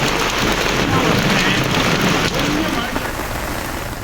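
Heavy rain pours steadily onto surfaces in Theni's Vaigai catchment area, a dense continuous roar with low thunder rumbling underneath, close and loud throughout with no voices.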